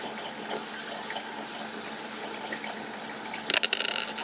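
Hairspray spritzed onto hair being set in a ponytail: a quiet room gives way near the end to a quick cluster of sharp, hissing spray bursts, close and fairly loud.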